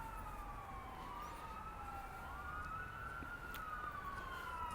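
A distant emergency siren wails steadily, its rising and falling tone carrying over a constant low background rumble with no talking.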